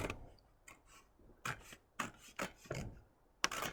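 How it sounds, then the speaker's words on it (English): Scissors cut along a sheet of A4 paper folded into a small book, giving a series of short, quiet crisp snips and rustles in an uneven rhythm, close by with no talking. "And I've got a little hole then to get my scissors in. I can cut along carefully"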